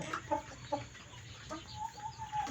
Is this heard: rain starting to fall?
no